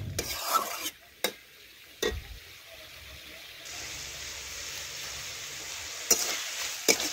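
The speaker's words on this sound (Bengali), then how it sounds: "এই দেখুন নাড়াচাড়া করে নিচ্ছি" A spatula stirs masala in a pan for a rohu fish curry, scraping and clattering in a few sharp knocks over a soft, continuous sizzle. Close and moderately loud.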